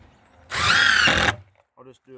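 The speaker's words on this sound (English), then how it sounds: "the way I do it is I'll put like 2 screws on the edge" A power drill drives a screw into a wooden chicken coop door in one loud, steady burst of under a second, followed by a pause and then nearby talking.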